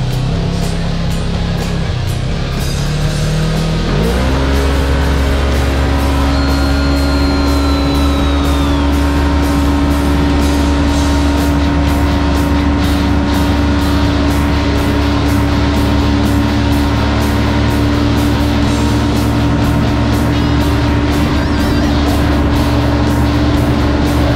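2020 Polaris General 4 1000 UTV fitted with an EPI clutch kit accelerates hard from a roll, engine note sweeping upward and then holding a loud, sustained high drone with wind rush close to the microphone.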